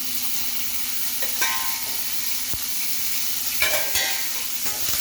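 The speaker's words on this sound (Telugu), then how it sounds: "ఇలా అన్ని నూనెలో వేయించుకోవాలి" Onions and tomatoes frying in oil in a pan, a steady close sizzle with occasional scraping stirs of a spoon layered over the constant hiss.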